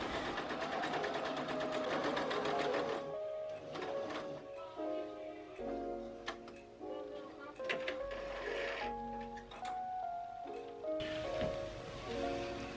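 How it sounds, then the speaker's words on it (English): A home sewing machine runs long basting stitches at its longest stitch length with no backstitching, sewing tiers of a bedsheet-fabric summer two-piece; a steady close mechanical whirring and ticking continues throughout, pausing briefly at moments. "I've just set my machine on the longest stitch length and I'm not back stitching"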